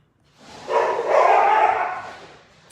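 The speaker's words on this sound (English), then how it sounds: "It's my crazy dogs." Dogs bark indoors in a short burst, a couple of close, loud yapping barks rising and fading within a few seconds.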